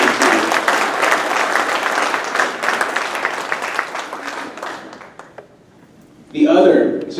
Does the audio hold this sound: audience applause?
yes